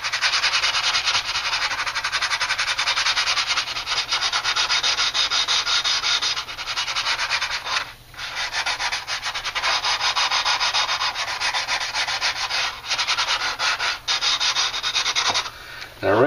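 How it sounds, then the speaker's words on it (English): A last layer of putty on a scale model is sanded by hand, a close, continuous scratchy rubbing of back-and-forth strokes with only a few brief pauses. "all I need to do is just smooth out this this last layer of putty"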